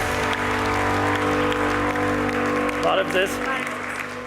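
A studio audience on an Armenian humor show applauds in a steady wash of clapping, with a greeting spoken over it near the end.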